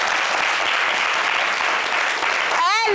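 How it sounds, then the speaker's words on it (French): A studio audience at a fashion show applauds a diva with dense, sustained clapping, close and loud, and the applause cuts off abruptly near the end. "Applaudissez pour notre diva."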